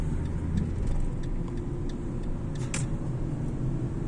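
A car rolls along a driving test course at an exam ground in Ovacık, a steady low engine and road rumble close by with faint clicks, no talk.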